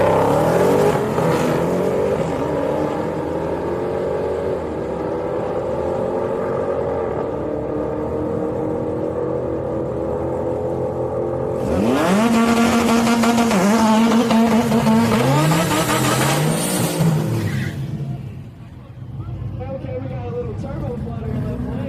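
Drag racing cars, a 6.4 Hemi and a 6.2 supercharged Hemi, rumble at the line, then launch with loud rising engine revs and whine before fading, while a commentator talks throughout at Houston Raceway Park.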